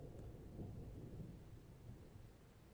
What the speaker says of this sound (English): And when you hear the thunder? Wow.